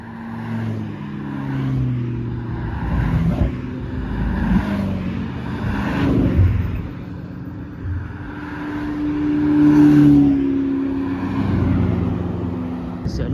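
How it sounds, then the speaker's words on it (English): A McLaren Speedtail supercar drives by during Monterey Car Week, its engine a steady, fairly loud hum that swells and fades over about thirteen seconds, with other vehicle noise and faint voices in the background. "I've been trying to find this car all week, the Speedtail."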